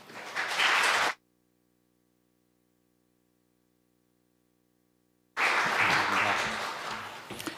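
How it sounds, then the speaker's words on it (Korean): A church congregation applauds in welcome of a missionary at a mission dedication service, with a loud burst of clapping that stops abruptly, a long stretch of near silence with a faint low hum, then the clapping resumes loudly. "함께 환영하면서 하나님 앞에 박수로 영광 돌리겠습니다"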